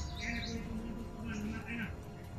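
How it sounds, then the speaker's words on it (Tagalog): Wild birds chirp in short, bright bursts over a low hum, with a person talking quietly beneath them. "May mga ibon. Yung palagi yung naririnig namin."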